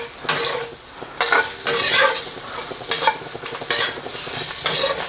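Salt and chilli soft shell crab frying in garlic-flavoured oil, a loud close sizzle broken by regular bursts of vigorous stirring and scraping roughly every second.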